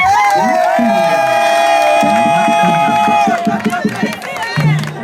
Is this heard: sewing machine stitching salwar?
no